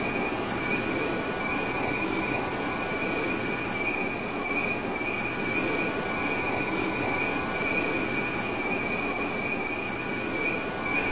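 Simulated IRT Redbird subway train on the Flushing express line in the OpenBVE simulator, rolling steadily with a continuous rumble and a thin high whine, constant and fairly close, with no voices.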